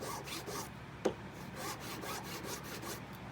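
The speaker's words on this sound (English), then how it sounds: "for me, I like to be filing at an angle." A file rasps back and forth across a wax ring band held at a jeweller's bench pin, with soft rhythmic strokes close by and one sharp tap partway through, quiet and without talk.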